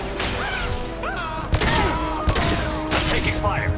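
Gunfire in the sci-fi shooter Mass Effect 2: several sharp broadband bursts land about a second apart amid a busy combat soundscape, with a voice talking throughout.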